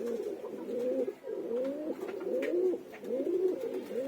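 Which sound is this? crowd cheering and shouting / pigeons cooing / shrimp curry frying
pigeons cooing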